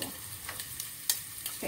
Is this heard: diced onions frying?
yes